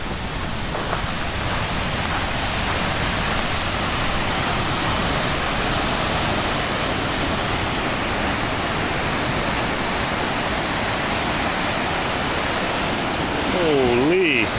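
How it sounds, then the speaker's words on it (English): Dense, steady roar of Shuswap Falls thundering close by, loud and unbroken throughout, with a faint brief whine near the end. "Hear the thunder of the water."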